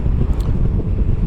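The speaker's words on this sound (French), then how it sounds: "Tu entends le vent." Wind buffets a Moto Guzzi V100 Mandello motorcycle's windscreen while riding, a loud, low, continuous roar with gusty fluctuations.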